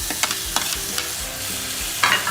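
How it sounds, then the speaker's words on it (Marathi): Chopped tomatoes going into frying onions in a pan for colambi masala, with a soft sizzle and a few clattering stirring scrapes, close and fairly loud, no talking. "त्याच्यामध्ये आता आपण चिरलेला टमाटर टाकणार आहोत"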